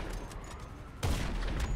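A Heavy Sniper Mk II fires in GTA Online: one loud, sharp shot cracks out midway after a quieter stretch of game background, with no speech.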